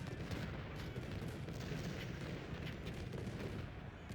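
Cannon artillery fires in the Civil War strategy game Ultimate General at the battle of Stones River, a faint, steady rumble of distant booming and rolling gunfire with no voices.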